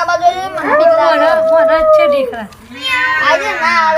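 A human voice imitates a cat, giving a series of loud, close, drawn-out meows with a short break in the middle.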